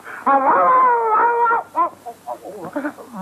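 A man vocally imitates a crying child, producing a drawn-out whining wail that comes out like a puppy's howl, followed by short broken whimpering yelps, close and fairly loud.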